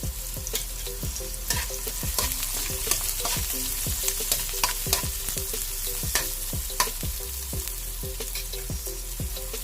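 Onion and garlic sauté in a pan for ginisang corned beef with potatoes, a close steady sizzle broken by regular scraping strokes of a spatula stirring every second or so, with no voices.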